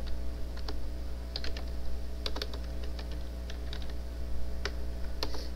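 Someone types on a computer keyboard in sparse, irregular clicks, one key at a time with short flurries and pauses, over a steady low electrical hum.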